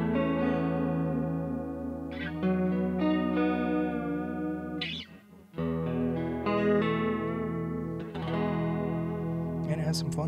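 An electric guitar runs through a NUX CH-3 chorus pedal, sustained shimmering chords and notes with a wavering, swirling tone, a brief dip mid-way before playing resumes steadily.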